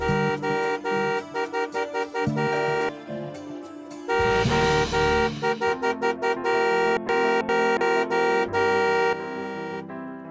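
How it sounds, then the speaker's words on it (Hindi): A car horn honks over and over in quick bursts, loud and close, with a few longer blasts mixed in among the short toots. "क्या हो गया नील, ऐसे पागलों की तरह हॉर्न क्यों बजा रहा है?"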